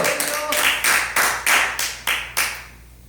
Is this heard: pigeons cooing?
no